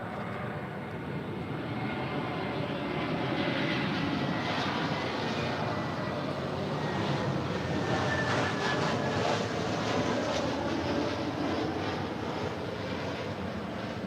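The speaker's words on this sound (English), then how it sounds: "It's Delta 1177 on an A321neo, delivered in March of this year, coming from Minneapolis" A Delta Airbus A321neo airliner arriving from Minneapolis at LAX gives a steady, loud jet roar that swells slightly through the middle and stays constant throughout, with no talk over it.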